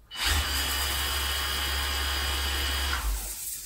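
A Mirka MID6502022 electric sander runs at its first speed setting, a steady, fairly quiet whirring hum that starts up and holds for about three seconds before winding down, with no talk.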